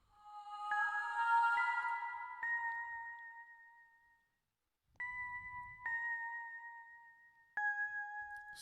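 A Snowflakes Bells Xenology synth preset in FL Studio plays a simple bell-like counter melody, clear sustained chimes with a few struck notes, pausing briefly then resuming, no voices.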